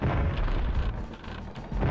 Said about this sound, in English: Also, we've got a cannon.